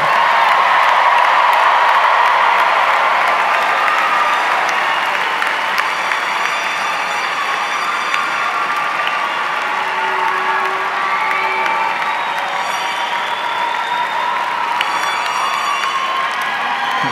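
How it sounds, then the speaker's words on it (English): A commencement crowd gives the graduating class of 2023 a long, loud round of applause with cheers and whoops, dense and steady throughout, with occasional high shouts rising over the clapping. "Big round of applause for the class of 2023."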